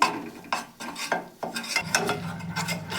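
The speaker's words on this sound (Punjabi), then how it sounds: "ਬਿਲਕੁਲ ਘੱਟ ਜੇ ਸੇਕ ਤੇ ਆਪਾਂ ਇਹਨੂੰ ਭੁੰਨਣਾ ਹੈ ਜੀ ਚੰਗੀ ਤਰ੍ਹਾਂ ਦੇ ਨਾਲ ਆਪਾਂ ਬੇਸਣ ਭੁੰਨ ਲਵਾਂਗੇ" Gram flour (besan) roasting in ghee over low heat is stirred with a utensil against the pan, giving repeated scraping strokes in an irregular rhythm, close and moderately loud with no talking.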